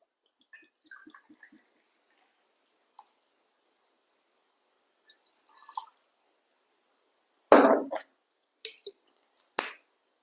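Dutchman Premium brandy poured into a glass, a brief splashing gurgle of liquid after a few small clinks and taps, with near silence around it.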